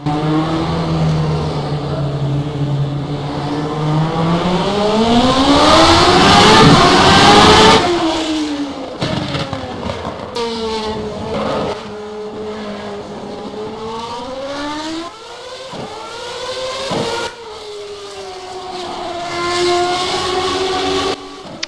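An ASR Formula race car engine in the racing game rFactor 2 revs up and down loudly, its pitch climbing and falling through gear shifts, with a sharp surge midway and steady high-speed roar throughout.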